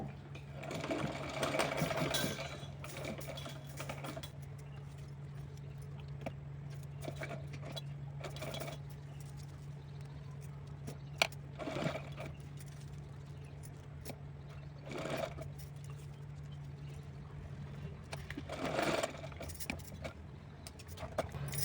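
Sewing machine stitching lace pieces together for a small deity outfit, a faint steady mechanical whir with louder bursts of clattering needle action, close by with no talk.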